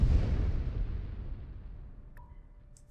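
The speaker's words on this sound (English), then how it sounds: "So now that we're here, we can bomb this place." Planetary bombing in the space strategy game Master of Orion: a heavy, rumbling explosion hits at once and slowly decays over about three seconds, followed by a faint electronic blip.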